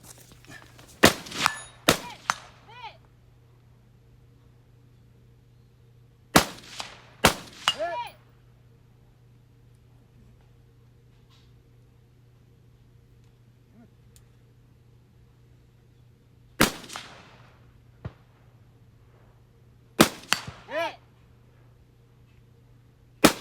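Rifle shots during a timed shooting match run, sharp isolated cracks in small clusters with long quiet gaps between them, each followed by a brief ringing tail over a low steady hum.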